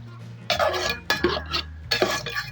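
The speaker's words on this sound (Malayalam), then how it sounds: "നമ്മളൊന്ന് ഇളക്കി" Beef liver fry being stirred in a pan, with close, clattering scrapes of a spoon against metal cookware in three bursts over a faint background hum.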